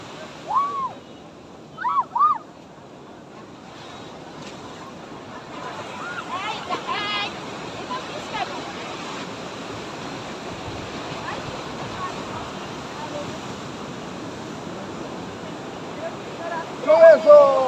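Sea waves at the shore in Puri roll in as a steady, broad rush of surf with wind buffeting the mic, while voices and brief cries of people on the beach pop up now and then.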